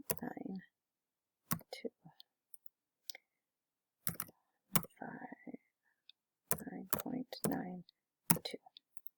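Typing numbers on a computer keyboard produces bursts of quiet, close clicking keystrokes in short irregular runs separated by pauses, with no talking.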